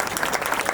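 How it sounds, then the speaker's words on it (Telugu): An audience claps together at a Srirama Navami celebration in the Brigade Citadel community, giving a brief, dense, steady burst of applause. "ఒకసారి మనకు మనం చప్పట్లు కొట్టుకుందాం"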